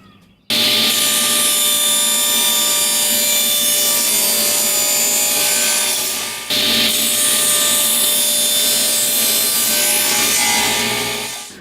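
A saw cutting through wood on a sled in long steady rasping strokes, loud and close, pausing briefly midway before continuing.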